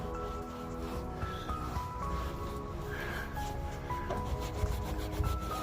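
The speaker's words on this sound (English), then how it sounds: "But let's get to the wiping here." A cloth rubs steadily back and forth across a car surface, wiping off mildew stains sprayed with vinegar, a continuous soft scrubbing close up with faint background hum and no speech.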